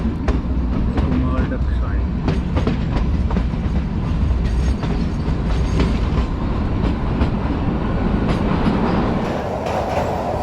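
Kalka-Shimla heritage narrow-gauge train running through the 1143-metre Barog tunnel (Tunnel No. 33), a steady close rumble with rhythmic clickety-clack of wheels on rail joints throughout.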